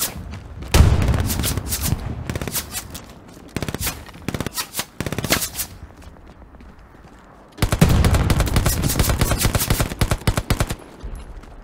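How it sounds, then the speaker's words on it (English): Bursts of Russian machine gun fire in the video game Hell Let Loose, set in Stalingrad, ring out loud and close, with long rapid strings of shots broken by short pauses and scattered single cracks. "That shitty Russian machine gun."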